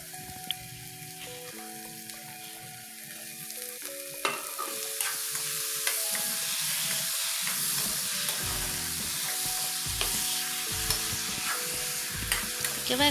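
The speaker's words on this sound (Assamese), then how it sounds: "এতিয়া মটৰখিনি দি অলপ দেৰি ভাজি ল'ম।" Green peas fry with melted tomato and salt in a pan for a paneer and potato curry, a steady close sizzle with stirring scrapes throughout, over faint tonal background sounds.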